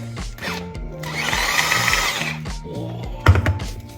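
An electric food chopper chopping garlic and onion, a close motor whir in short bursts and a longer run, the pitch dipping and rising as it works, ending with a clunk, no talk.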